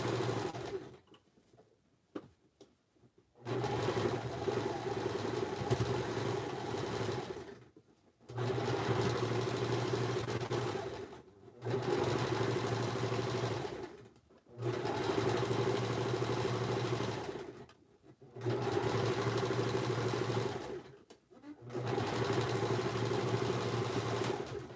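A sewing machine zigzag-stitches close to a fabric edge in several runs of steady mechanical whirring, each several seconds long, separated by short pauses.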